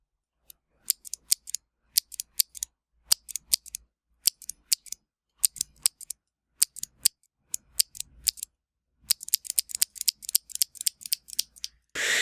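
Typing on a mechanical keyboard with Cherry MX switches: crisp, close clicks and clacks in irregular bursts, each keystroke sharp and distinct, with brief pauses between runs and a denser flurry near the end.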